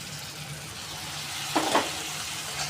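Hot milk being stirred into a mango pulp mixture for mango shira in a pan, a soft wet sizzle with a brief scraping stir burst midway, near and fairly quiet.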